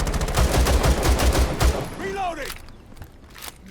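Rapid pistol gunfire in Rainbow Six Siege, a loud burst of repeated shots for about two seconds followed by quieter game sounds, with brief speech between.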